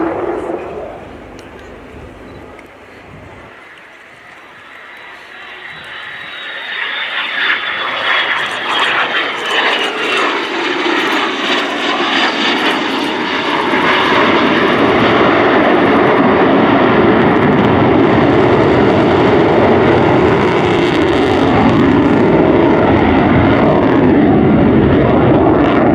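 An F-35B Lightning II fighter jet performing a flying display at RIAT 2024 roars past, its engine building from a thinner whine into a loud, sustained, rumbling blast that swells and stays close and powerful.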